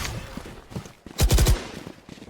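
Gunfire in the tactical shooter Valorant, a quick burst of several sharp shots in rapid succession near the middle, set against quieter game noise.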